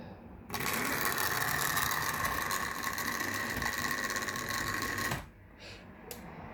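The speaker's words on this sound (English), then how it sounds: "the motor in this is ever so noisy" The worn, noisy motor of a 1971 Triang Hornby Flying Scotsman model locomotive whirs loudly with a steady mechanical grinding buzz for about five seconds, then cuts off abruptly, leaving faint clicks.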